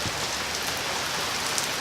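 After two days of heavy rain, a steady, dense downpour hisses on the surfaces outside a shed, continuous and even with faint scattered drops and no talking.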